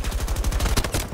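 Automatic gunfire from Battlefield 2042 rattles in a rapid burst of about a dozen close, punchy shots, alone with no talking.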